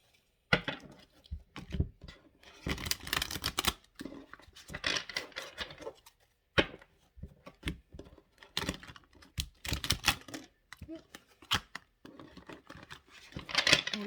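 Quick bursts of tarot cards being riffled and shuffled, crisp flapping and clicking in uneven clusters, close by with short pauses between bursts.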